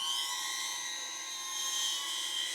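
A steady high-pitched buzzing whine with sharp tonal layers from DJI camera drones, including an Avata 360 and Neo 2, hovering continuously at moderate distance, with no talking.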